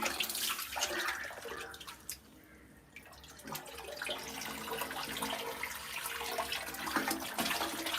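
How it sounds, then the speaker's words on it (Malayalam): Running water flowing again, a steady, broad rushing gush that drops briefly, then returns and holds at a fairly strong level with splashy detail. "വീണ്ടും വെള്ളം വന്നു"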